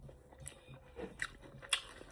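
Quiet, close chewing and crunching of fish curry with mango, a few soft bites spread irregularly over a couple of seconds.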